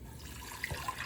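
Water being poured from a cup into a cooking pot for chiles rellenos makes a soft, steady splashing trickle, faint and close, with no voices over it.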